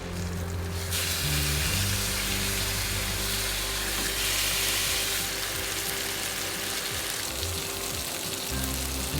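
Salmon fillet cooking in a pan with teriyaki sauce and sesame seeds, a steady broadband sizzle and hiss running throughout alongside a low constant hum, with no talking.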